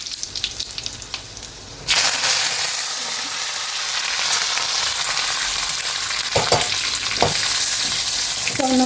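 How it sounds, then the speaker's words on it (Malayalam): Fenugreek seeds and green chilies hit hot oil with a sudden loud sizzle that keeps frying steadily, broken by a few stirring clinks near the end. "ഉലുവ ഇട്ട് കൊടുക്കാം. പച്ചമുളക് ഇട്ട് കൊടുക്കാം."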